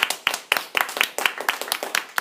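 An audience claps at the end of a student's persuasive speech in a classroom, a short run of brisk, close, fairly loud hand claps from a small group.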